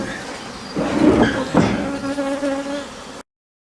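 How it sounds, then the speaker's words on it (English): Bees buzzing around hives during a large honey robbing and extraction, a close, rough insect drone with a couple of louder swells before cutting off. "You get plenty of bee noise from it?"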